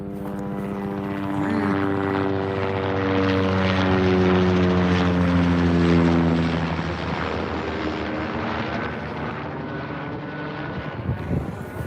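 A helicopter passes overhead, its rotor thump and engine drone swelling loudly to a peak midway, then slowly fading as it moves off.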